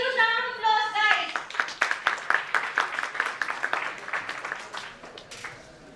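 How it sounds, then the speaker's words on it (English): At a tech conference session on AI, an audience bursts into clapping right after a voice finishes speaking, with crisp claps falling into a loose rhythm before fading out. "So let's have a huge round of applause, guys."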